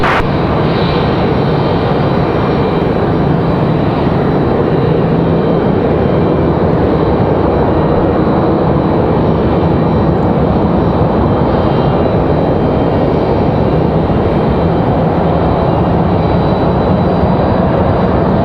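Airliner landing at Raleigh-Durham airport, a loud continuous roar of jet engines that stays broad and steady for the whole stretch, with no talk over it.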